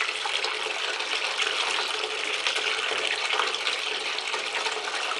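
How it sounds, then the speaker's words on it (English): Water from a bath tap pours in a steady rushing stream over a LUSH Comforter bubble bar held under the flow, continuous and close, with no voices. "I just hold it under the tap and just sort of rub it."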